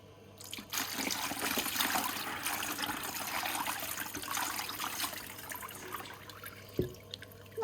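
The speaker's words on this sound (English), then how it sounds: "quick rinse and see how they look" Cut dendritic opal pieces are rinsed in water, a soft trickling and splashing with gentle dribbles, fairly faint and close, ending with a small knock.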